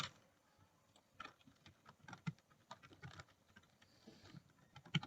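Typing on a computer keyboard while coding, quiet, close, irregular key clicks with a few sharper taps and brief pauses over a soft background hiss.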